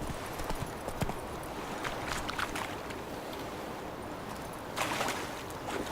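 In The Witcher 3, Roach the horse clip-clops along in a quiet, irregular patter of hoofbeats over soft outdoor ambience, with a couple of louder steps near the end.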